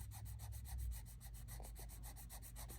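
Colored pencil strokes blending on paper, a rhythmic series of soft, even rubbing passes repeating at a steady pace, close and quiet with no talk.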